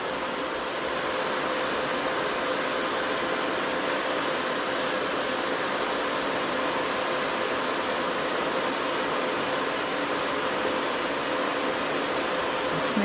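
A Melody Susie nail dust collector runs steadily at close range while builder gel is filed, giving a constant, loud fan whoosh and hum with no change or pauses and no talking.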